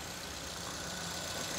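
Idling 1400 cc engine of a 2014 Suzuki Ertiga GX, a steady smooth hum with no rough knocks, heard alone at moderate level.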